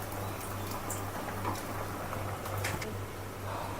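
Mustard oil heating in a hot wok crackles and patters softly and steadily, like light rain, with faint scattered pops.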